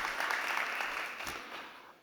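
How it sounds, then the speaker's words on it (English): Audience applause at a startup competition event on the future of work and talent, a steady broadband wash of clapping that holds fairly even and then slowly fades toward the end. "Can we have a big round of applause, please, one more time for Dmitry Lysenko"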